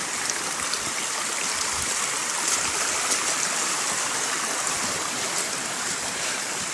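A small stream flows beside a hiking trail on Mt Kapakapanui, a steady, fairly soft rush and trickle of water with no speech.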